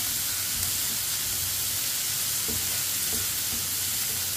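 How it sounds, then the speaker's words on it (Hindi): Tomatoes with green chillies sizzle and hiss steadily in a hot pan while a spoon stirs them, a constant frying crackle with a few soft scraping clicks and no talking. "टमाटरों को भी चम्मच चलाते हुए पकाना है"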